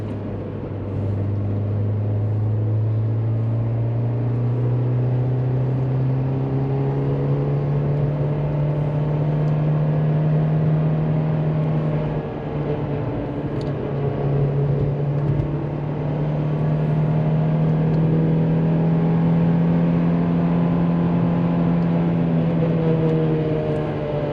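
A car engine holds steady at about 5,000 RPM in third gear while cruising near 50–55 mph on a road trip, a loud, even droning hum with a slight rise in pitch midway and no talk.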